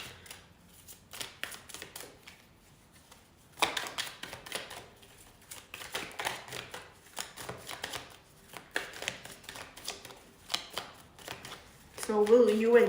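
Tarot cards shuffled by hand in repeated bursts of crisp riffling and tapping, close and fairly loud, with pauses between bursts and a voice starting at the end.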